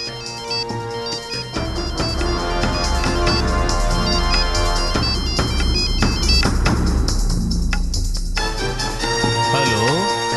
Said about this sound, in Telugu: ఇప్పుడు నా ఫోన్ రింగ్ అవుతుంది.